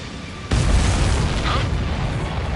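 A missile explosion in Ace Combat 7 bursts suddenly after a brief lull, a loud, close boom that settles into a sustained roaring rumble.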